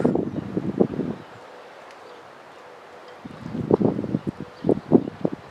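Gusts of wind buffeting an outdoor microphone beside Saratoga Passage, arriving as two rough, rumbling bursts separated by a calmer stretch.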